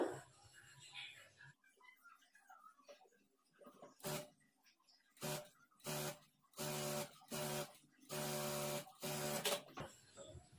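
A sewing machine runs in a series of short, loud bursts separated by pauses as it stitches a blouse lining with a half-inch edge margin, after a quiet stretch.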